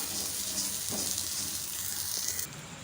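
Vegetables and coconut sauté in a pan on a stove, giving a steady, close sizzling hiss with faint stirring scrapes.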